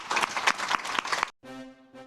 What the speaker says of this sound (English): big round of applause for Carlos Alazraqui